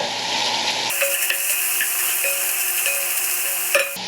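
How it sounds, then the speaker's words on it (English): Chopped onions and bacon crackle and sizzle in a hot pot as they are stirred, with a steady frying hiss and light scraping over a few seconds. "The onions. Stir that around."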